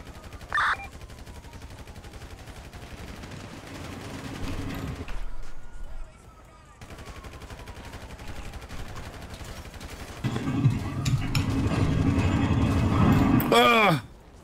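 Gunfire in GTA V roleplay: scattered shots and bursts of automatic fire, some near and loud, others duller, spread across the stretch with quiet gaps. Voices can be heard at times alongside the shooting.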